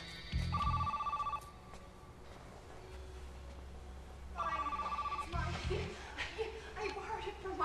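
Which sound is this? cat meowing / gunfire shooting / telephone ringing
telephone ringing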